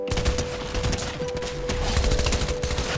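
Shotgun blasts in Fortnite ring out in quick succession, several loud booming shots layered with other gunfire over a constant game tone, close and dense throughout.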